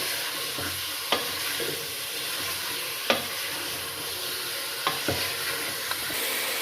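Karela and small cut chicken pieces frying together in a pan, a steady hiss of sizzling oil broken by a few sharp scrapes and knocks of stirring, no talking.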